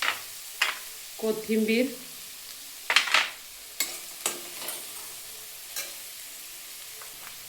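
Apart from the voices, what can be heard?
stirring corn paratha mixture in a pan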